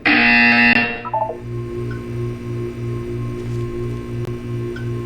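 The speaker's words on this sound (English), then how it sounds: "You will hear a buzzer." A loud, harsh buzzer from the video game Portal 2 blares for about a second and then cuts off, leaving a quieter pulsing electronic hum that repeats steadily afterward.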